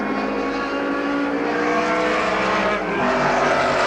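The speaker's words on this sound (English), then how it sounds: "And there he goes with the big Mustang in second place behind him" Touring cars, a Lotus Cortina followed by a big Ford Mustang, race at Warwick Farm in 1969, with loud continuous engine roar and shifting revs as the cars pass close by.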